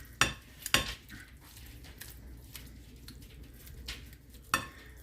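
Metal tongs pull apart cooked corned beef, soft squishy tearing and rubbing with a few sharp metallic clicks close by, sparse and fairly quiet.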